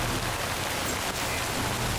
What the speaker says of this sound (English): damn rain won't quit.